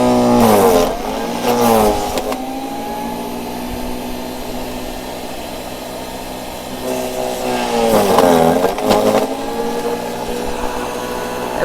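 A Sun Joe 14 amp electric wood chipper grinds yard debris into mulch, its motor droning steadily and rising into two loud rough bursts as branches are fed in, close by and without talk.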